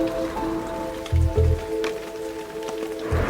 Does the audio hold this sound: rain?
yes